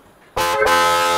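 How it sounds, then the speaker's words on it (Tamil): An electric car horn blares after a brief moment of quiet, one loud, steady buzzing tone held continuously to the end. "மேஸ்டோ ஹார்ன் 550 வரும்"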